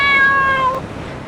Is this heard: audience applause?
no